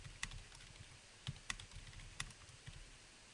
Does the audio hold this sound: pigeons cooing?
no